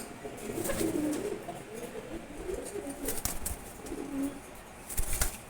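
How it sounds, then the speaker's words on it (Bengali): Male pigeons kept together in a loft, among them racers, Giribaz and Silver Gorra types, coo and murmur in low repeated phrases with occasional wing flutters and a few sharp bumps, fairly close and steady throughout. "সবগুলো নর কবুতর এখানে রাখছি।"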